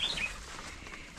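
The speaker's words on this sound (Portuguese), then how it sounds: "Olha o passarinho." A small bird gives a brief high chirp near a cloudy trail in a Costa Rican volcano area, faint against soft outdoor ambience.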